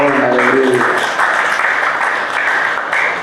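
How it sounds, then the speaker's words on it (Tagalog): A church congregation breaks into loud, sustained applause that fills the room, with a brief trailing voice at the start before the clapping carries on alone. "Isang malakas na palakpak para sa ating Panginoon."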